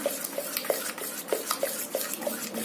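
Homemade butter stirred round and round with a spoon in a metal pot, producing quick, rhythmic clinks and scrapes of the spoon against the vessel, close and clear.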